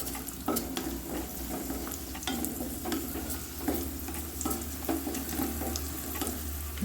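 Cashews and raisins fry in a pan with oil or ghee for semiya kesari, a steady close sizzle and bubbling with the occasional stir or scrape of a utensil.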